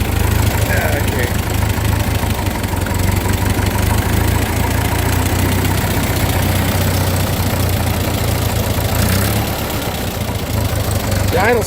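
A 1941 Ford 9N tractor engine idles steadily and loud up close, a continuous low chugging rumble with a faint knocking edge that eases slightly near the end.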